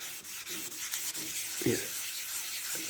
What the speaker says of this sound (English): I'm rubbing in different directions.